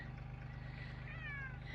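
A pet cat on a walk along a trail toward mountain campsites gives a single drawn-out meow near the end, over steady low outdoor hum.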